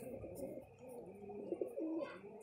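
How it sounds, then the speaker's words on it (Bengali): Soft, low cooing from high flying pigeons, a few rounded repeated calls close by and fairly quiet, with faint background hiss. "পায়রা নর মাদাটা আমি ছেড়ে দেখাচ্ছি"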